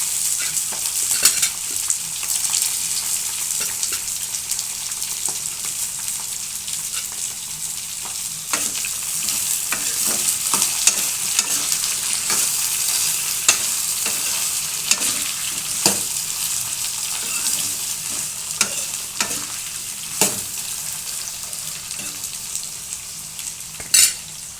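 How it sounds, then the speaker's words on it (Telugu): Brinjal and curry leaves fry in hot oil in a pan while being stirred, for a mixed potato, brinjal and meal maker curry: a steady, close sizzle throughout, broken by frequent scraping clicks of the spoon against the pan. "అలాగే కరివేపాకు కూడా వేసేస్తాం."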